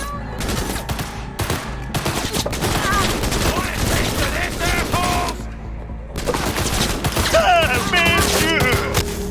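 Sustained gunfire in the video game Cyberpunk 2077, with dense overlapping bursts of automatic shots and explosive cracks running loud and continuous throughout, along with mechanical clatter and game effects.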